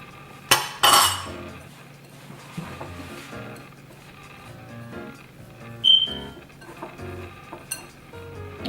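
Mini cheesecake mixture is stirred in a bowl, a metal utensil clinking and scraping against the dish in scattered bursts with quiet gaps between, close and fairly soft, no talking.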